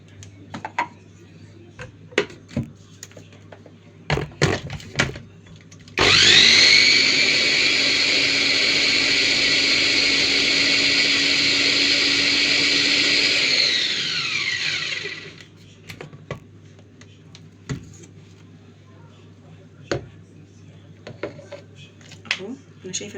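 An electric hand mixer whips cupcake frosting tinted with red food coloring, giving a loud, steady high-pitched whine for about eight seconds that winds down, with faint clicks and handling noises around it.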